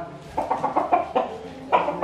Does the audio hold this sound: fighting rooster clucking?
yes